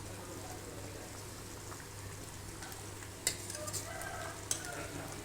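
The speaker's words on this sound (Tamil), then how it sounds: "பாருங்கள் நல்லா கொதிக்குது" A pot of drumstick poricha kuzhambu, a Tamil curry with murungaikai, simmers on the stove with a soft, steady bubbling hiss, quiet and continuous, broken by a couple of faint clinks.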